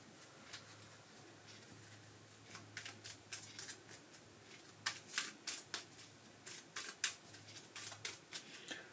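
Kingdom Death: Monster terrain cards being shuffled, heard as a run of short, crisp riffling bursts that grow denser and louder toward the middle and end, with no talking.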